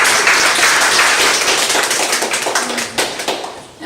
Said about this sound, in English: So round of applause for Ms. Sarton.